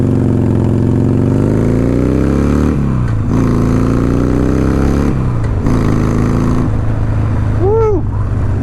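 A motorcycle engine runs loud and steady while riding, its pitch rising and falling as the rider shifts through gears, with a brief squeal near the end.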